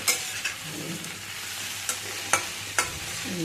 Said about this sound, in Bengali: আমি ভালো করে তরকারিটা নাড়তে থাকবো